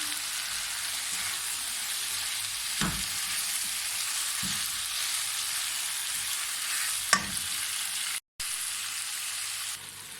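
Mutton korma sizzles and fries in a pan with oil, ginger-garlic paste and tomatoes, a steady close crackling hiss broken by a few stirring scrapes and a brief dropout.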